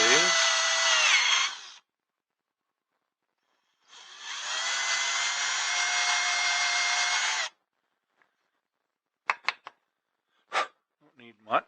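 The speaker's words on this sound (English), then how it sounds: "Got a 1/4 inch drill bit on here. And just drill into this" A power drill with a 1/4 inch bit bores into a wood log in two sustained bursts separated by a pause, followed by a few short knocks and handling clicks.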